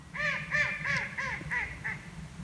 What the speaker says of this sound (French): vous avez sans doute entendu un canard qui s'est mis à crier tout d'un coup